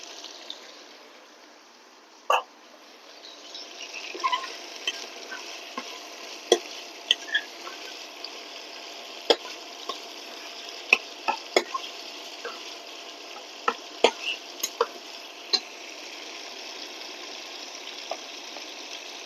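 Chicken with six green chilies being stirred and fried in a pan, a steady soft sizzle with scattered sharp scrapes and clinks of the spoon throughout, close and fairly quiet, no voices.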